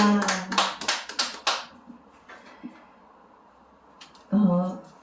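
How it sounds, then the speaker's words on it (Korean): A small group claps in a short burst of distinct, separate hand claps at a gathering, then quiets into low murmur, with voices heard at the start and end. "박수"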